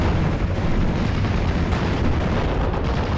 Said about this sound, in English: an ammo explosion causes us to win that engagement